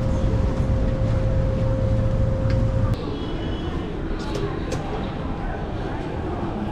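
Steady low rumble inside a moving train in China, with a sustained tonal hum that drops away midway as the ride continues more quietly; fairly loud and continuous, with no talk.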